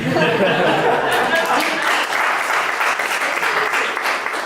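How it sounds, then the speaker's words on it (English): A reading audience claps loudly, dense applause that thins and fades slightly toward the end, with some chatter and light laughter mixed in. "you guys don't need to clap"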